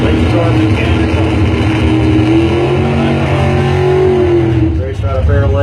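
A dragster engine at a drag race revs loudly nearby, a harsh throaty roar whose pitch rises and then drops away near the end, with an announcer's voice over the top.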